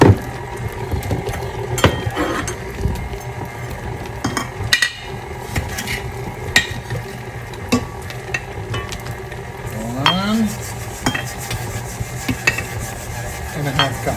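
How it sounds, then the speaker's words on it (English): An electric mixer creams 1.5 cups of white sugar into fat for snickerdoodle cookie dough, giving a steady whirring churn with clinks and scrapes against the bowl throughout, fairly close. "we're going to let this mix till it gets fluffy"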